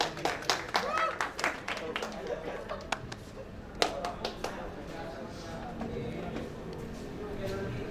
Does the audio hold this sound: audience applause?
yes